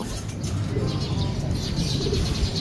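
A pigeon coos softly nearby over a constant outdoor rumble, with light chirps and a faint flutter of wings.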